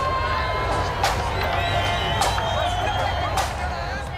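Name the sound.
crowd of Protestant residents at a band march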